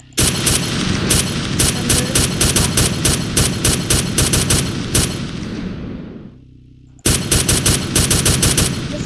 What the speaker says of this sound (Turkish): Bakın burada silahınızla atış yapmak için bir yer var.